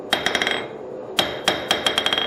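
A hand-forged, heat-treated rounding hammer with an oak handle bounces on an anvil in quick ringing strikes: a short burst of rapid taps, a pause, then a second rattling series, close and bright.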